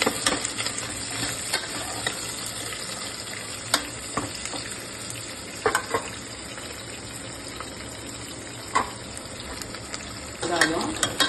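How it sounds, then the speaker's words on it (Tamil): Green chillies and curry leaves fry in hot oil in a pan, a close crackling sizzle punctuated by sharp clinks and scrapes of stirring, with a brief splash of running water near the end. "ஒரு கொத்து கருவேப்பிலை தழை போட்டு நல்லா கொஞ்சம் வதங்கட்டு."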